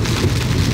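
Heavy rain pounds down hard in a dense, even hiss that is loud and close throughout the brief moment, with no voices.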